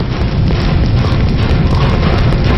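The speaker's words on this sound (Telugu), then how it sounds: "ఎవరో చేతిలో బాంబు పెట్టేది?" A bomb explosion in a film scene, a loud, dense, sustained blast that fills the whole clip with no voices.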